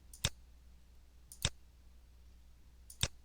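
Three sharp, isolated computer mouse clicks spaced over a few seconds, faint against a quiet low hum while working in MultiSim circuit software.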